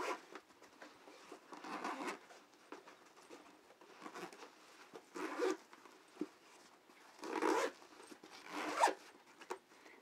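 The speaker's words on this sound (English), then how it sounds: "Zip on the bottom." A zipper on a soft pet carrier runs in a series of short scratchy pulls with brief pauses between them, close and fairly quiet, with no talking.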